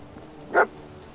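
A dog companion in the video game Fallout 4 gives a single short bark, moderately loud, over a quiet background of game ambience.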